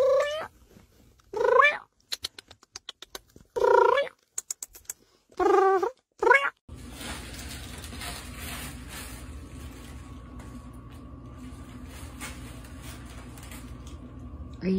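A domestic cat purrs steadily and close for about eight seconds, alone, after several short meows and chirping vocalizations near the start.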